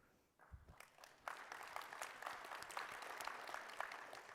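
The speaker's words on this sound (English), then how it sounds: "I'm clapping to myself." One person clapping alone at the close of a technical talk on network anomaly detection, starting with a few scattered claps and settling into steady continuous applause that stays moderately loud to the end.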